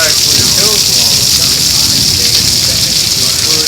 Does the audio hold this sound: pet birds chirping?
no